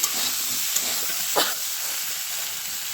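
Potatoes for aloo dum frying in a pan give a steady, close hiss and sizzle throughout, with a brief brighter crackle partway through.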